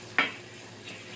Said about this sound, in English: I'm just going to let the garlic and the butter cook.